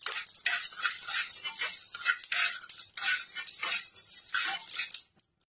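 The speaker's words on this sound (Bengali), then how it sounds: "ভেজে নেব মশলাগুলো" Cardamom and coriander dry-roasting in a hot pan give a steady, close crackling sizzle with stirring scrapes throughout. There is no talking, and the sound cuts off abruptly at the end.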